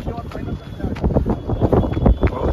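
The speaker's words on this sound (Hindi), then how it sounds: "हाँ बहुत हवा चल रही है" Strong wind buffets the microphone outdoors during a hot midday 5 km running session, gusty low rumbling bursts pulsing throughout while someone talks over it.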